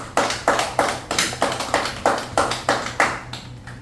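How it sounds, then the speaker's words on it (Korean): Rhythmic, evenly spaced claps, about three per second, sound close and crisp rather than like a large crowd applauding. "큰 박수로 모시겠습니다."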